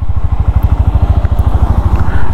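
A Glamour X 125 motorcycle engine runs while riding in power mode, a loud, close, steady low thrumming pulse with a rhythmic firing beat and wind noise.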